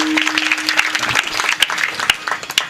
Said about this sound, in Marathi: गावासाठी एकदा टाळ्या वाजवा.